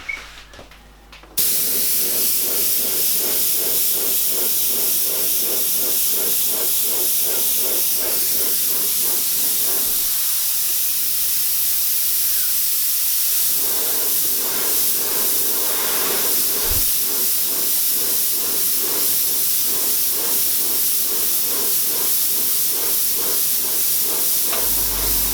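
An airbrush sprays paint with a continuous loud close hiss that starts abruptly after a brief quiet moment and runs steadily, with no talk.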